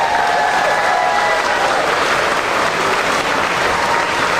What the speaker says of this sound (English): Can you give him a huge round of applause?